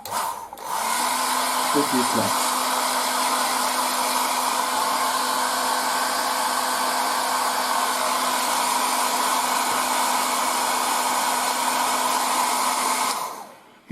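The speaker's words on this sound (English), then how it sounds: "I'm just going to use the air dryer a little" An air dryer blows over fresh paint on a 1:35 Trumpeter E-50 Standardpanzer scale model, giving a loud, steady whooshing roar that runs unbroken for about thirteen seconds. A voice speaks briefly near the start.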